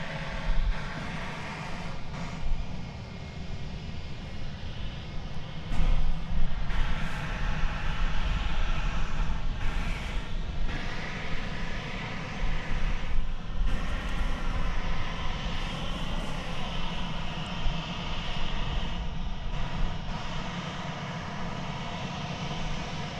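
An American Airlines jet taxis at Dallas Fort Worth Airport, its engines giving off a steady, loud whine and rumble that holds for the whole stretch, with slight swells as it rolls along.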